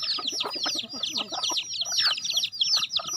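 Several Thai gamecocks of different ages and sizes cluck and crow in a rapid, overlapping stream of calls, close and lively with no pause.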